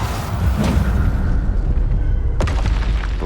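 Incendio fire spell cast in Hogwarts Legacy, a deep booming whoosh with low rumble, followed by a sharp burst about two seconds later, loud and close.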